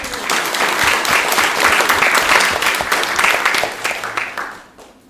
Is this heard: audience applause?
yes